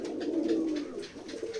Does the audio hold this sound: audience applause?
no